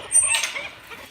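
A free-ranging backyard chicken gives one short, faint cluck nearby, with light ambient noise behind it.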